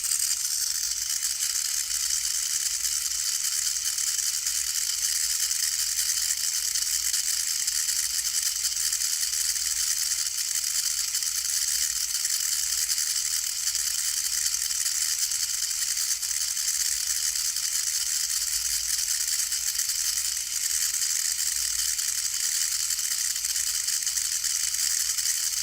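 A small DC motor controlled by a preset knob whines with a constant, loud, high-pitched electric buzz that stays steady throughout, with no clear speed shifts and no talk.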